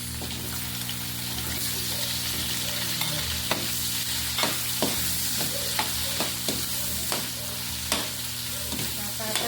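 Pork adobo with potatoes sizzles steadily in a pan, a continuous bright frying hiss punctuated by repeated clicks and scrapes of stirring, with a low steady hum beneath.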